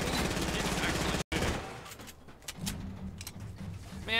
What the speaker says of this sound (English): He's actually shooting.